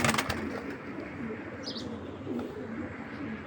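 Gangchil breed pigeons, large birds about a forearm long, coo in a loft with a few soft chirps and a brief flutter of wings, steady and fairly close with no talking.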